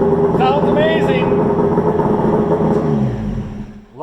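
A freshly built Polaris 680 Ultra triple-cylinder snowmobile engine with a new Tim's Precision pipe revs loud and close, holding a high, raspy drone with quick blips before dropping off at the end.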